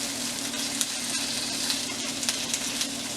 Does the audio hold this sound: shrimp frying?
yes